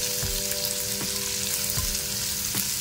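Chopped large onion frying in hot oil in a pan for sweet corn chaat, a steady loud sizzle throughout with a few soft stirring knocks, no voices.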